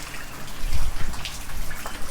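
Rain falling steadily on a cabin in a thunderstorm, a near, dense patter with a brief heavier low thump in the middle, no talking.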